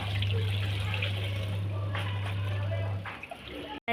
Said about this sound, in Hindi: मैं इनको धो देती जल्दी जल्दी